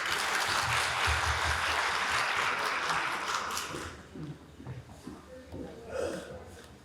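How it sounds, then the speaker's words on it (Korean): An audience at a redevelopment project briefing claps to welcome a presenter, a thick burst of applause that fades after a few seconds into quieter room sounds and a voice starting up. "박수로 좀 맞이해 주십시오"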